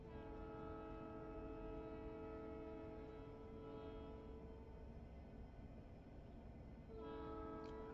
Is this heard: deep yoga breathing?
no